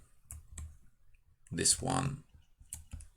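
Computer mouse clicks while selecting edges in FreeCAD: a handful of crisp, close clicks in pairs at the start and end, with a brief stretch of a voice in between.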